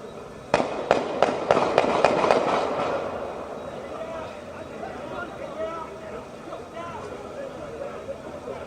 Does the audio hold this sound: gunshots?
yes